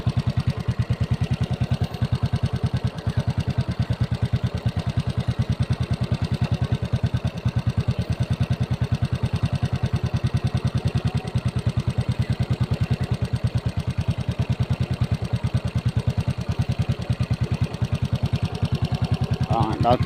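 A motorcycle engine runs steadily up close with an even, fast rhythmic chug throughout, and a brief voice shows near the end.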